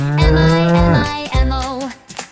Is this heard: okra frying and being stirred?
no